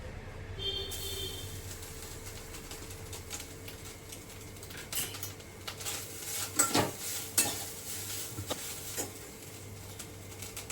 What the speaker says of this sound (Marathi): हे बघा, मी आता खोबऱ्याचा किस टाकते